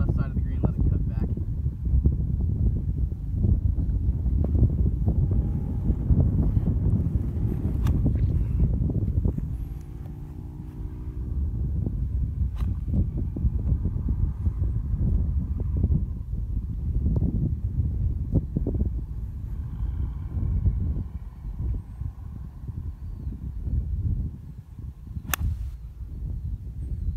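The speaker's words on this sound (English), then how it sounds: "The wind's heavily off the left." Wind gusts across a golf course at Laguna del Mar, roaring and buffeting the microphone almost continuously, with a brief lull partway through and a voice talking in places.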